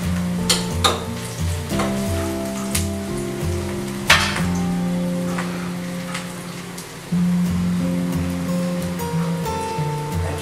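Besan flour roasts in oil in a pan, a steady sizzle and frying hiss with occasional sharp stirring scrapes, while low sustained tones of background music run underneath throughout.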